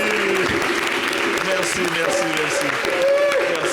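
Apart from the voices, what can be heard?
studio audience applause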